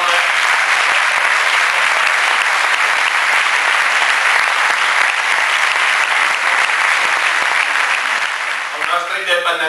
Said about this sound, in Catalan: Un aplaudiment per l'alcalde.